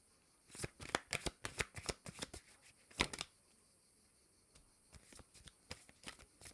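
Oracle cards shuffled for a reading, a quick run of crisp riffling flicks in clustered bursts, close and clear, thinning into sparser taps toward the end.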